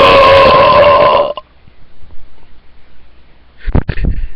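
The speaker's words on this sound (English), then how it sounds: "Usually I can fucking burp on command" A loud, drawn-out human burp forced out on command fills the first second and a half, then near silence, then a short burst of a second gulping burp or throaty sound near the end.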